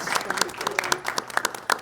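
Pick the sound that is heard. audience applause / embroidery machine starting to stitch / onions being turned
audience applause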